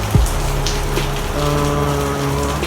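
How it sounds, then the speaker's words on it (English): Steady rain falling outdoors, a dense, loud hiss of drops covering everything evenly, with a faint low hum running underneath and no talking. "rain is currently falling, so I'm not even sure if you'll be able to hear me"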